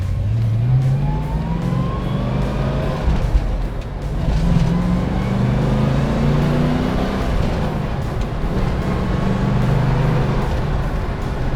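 A 1970 Ford Mustang Mach 1 V8 engine roars steadily up close, its low rumble rising in pitch as it accelerates, with a deep throaty tone throughout.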